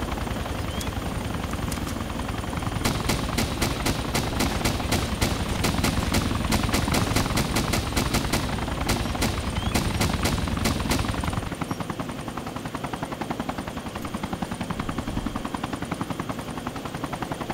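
Helicopter rotor drone with bursts of gunfire in the video game DayZ, steady and loud for about eleven seconds, then the shooting stops and a quieter rotor hum carries on alone.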